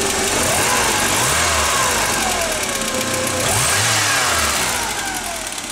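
Volkswagen Golf 3 petrol engine, started from cold and fitted with a modified Solex 21053 carburettor, revving up and down loudly and steadily at close range, with rising and falling pitch and no pauses.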